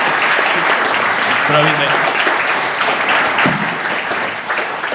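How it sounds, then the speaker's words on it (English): At a Glasgow tech meetup on game jams and cyber security, the audience gives loud, sustained applause that runs for several seconds while someone speaks briefly over the clapping. "Can we just have a massive round of applause for Peter,"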